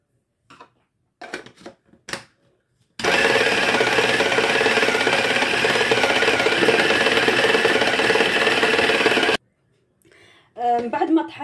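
Onion pieces and dried mint are ground in an electric grinder with a loud, steady whirring roar lasting about six seconds. Brief clattering handling noises come before and after it.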